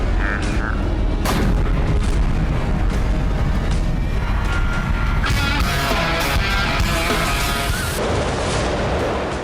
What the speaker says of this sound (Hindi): काउंटडाउन पूरा होते ही एक जोरदार धमाका होता है।